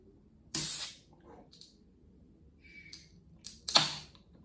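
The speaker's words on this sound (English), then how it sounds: "let's open this can gently" A can of Guinness Nitro Surge is opened gently, giving a sharp hiss of escaping gas followed a few seconds later by a second brief hiss, with quiet handling sounds between in an otherwise still room.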